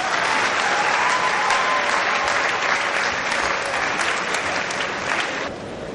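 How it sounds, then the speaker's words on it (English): Sustained applause from a university convocation audience, dense and steady from start to finish, dropping slightly in level near the end. "Please keep clapping."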